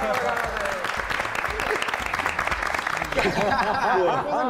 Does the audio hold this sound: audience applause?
yes